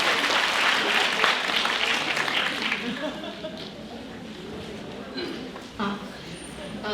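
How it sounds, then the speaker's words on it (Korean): An audience at a university admissions information session applauds to welcome an admissions officer, a dense wash of clapping that swells early and gradually thins out, with a few scattered claps trailing near the end. "큰 박수로 환영해 주시면 감사하겠습니다."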